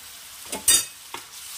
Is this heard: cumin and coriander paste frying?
yes